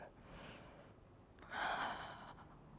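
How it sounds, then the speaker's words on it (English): A deep breath in and out is taken during a beginner Pilates mat class: a breathy inhale, then a fuller, louder exhale. It is close and airy over a steady noisy background. "Inhale and exhale. Two more breaths."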